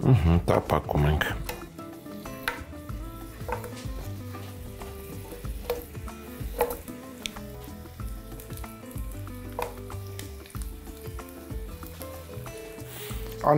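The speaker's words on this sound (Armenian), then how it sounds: "Տապակում ենք։" Lamb frying in sunflower oil in a pan, a continuous sizzle with stirring clatter, heard under steady talk.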